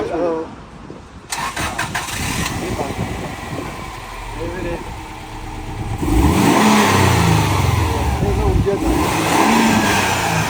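A rare car, one of about 2000 built worldwide, seen in New Zealand at a busy night gathering. Its engine cranks and starts, then settles into a loud, close idle and rises in revs, with people talking over it.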